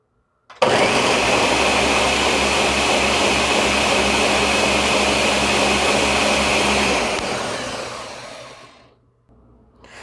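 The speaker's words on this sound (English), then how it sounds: "So now I'm just gonna blend this until it's creamy and nice." A blender purees green banana porridge until creamy, starting abruptly with a loud, steady whirring motor roar that holds for several seconds, then drops in pitch and spins down to near silence.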